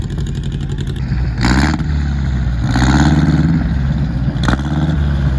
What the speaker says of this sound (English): Boy, that's a loud car.